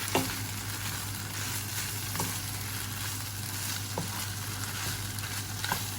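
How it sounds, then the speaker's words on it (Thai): Bamboo shoots stir-fried in a pan for a spicy dish with fish balls, a steady moderate sizzle with occasional sharp clicks from stirring and a low hum underneath, no talking. "ใส่หน่อไม้ที่เราเตรียมไว้ลงไปนะคะ ผัดผัดให้ให้เข้ากันเนาะ"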